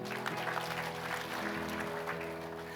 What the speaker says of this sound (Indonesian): Yang mengerti berikan tepuk tangan.